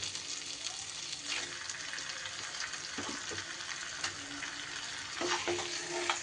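Chicken fries in a spice masala, a steady crackling sizzle running throughout with occasional scraping and stirring knocks from a utensil against the pan, fairly close and with no talk.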